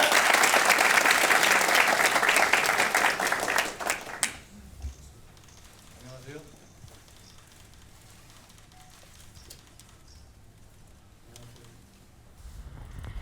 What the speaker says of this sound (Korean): 한정호 대표님을 큰 박수로 맞아주시기 바랍니다